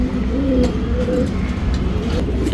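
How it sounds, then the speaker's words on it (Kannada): A female Makshi pigeon, a champion-line show bird, gives low, rolling coos that repeat over a steady background hum, with no talk. "ಇವಾಗ ಇನ್ನು ಜಸ್ಟ್ ಮಕ್ಷಿಯಲ್ಲಿ ಹೆಣ್ಣು ತೋರಿಸ್ದೆ"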